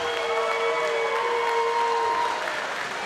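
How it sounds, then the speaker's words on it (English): A crowd at a King of the Cage fight event claps in sustained, dense applause for both fighters. The sound is steady and full for the whole stretch. "Ladies and gentlemen, a big round of applause, please, for both of the fighters in this cage."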